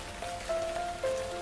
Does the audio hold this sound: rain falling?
yes